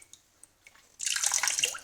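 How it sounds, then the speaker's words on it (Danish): A few faint drips, then water suddenly gushes out of the water tank of a Nescafe Dolce Gusto coffee machine, a close, splashing trickle that continues to the end. "Så den bliver trykket op, og så kommer der vand ud af beholderen"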